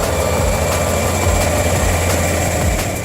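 A MAN tractor truck and a pushing Mercedes Actros haul a giant transformer, their heavy diesel engines droning loud and continuous with deep low rumbling and faint rhythmic pulses.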